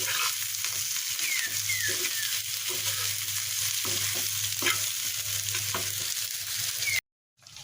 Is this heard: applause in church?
no